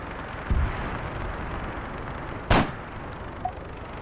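Two sharp sniper rifle shots in Arma 3, one faint and one loud, ring out over a steady low rumble, with a small click after them.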